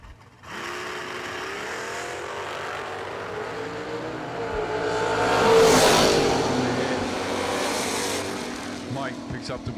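Drag racing cars launch down the strip at a bracket race event, a loud sustained engine roar that swells to a peak and then fades away, with an announcer talking over it.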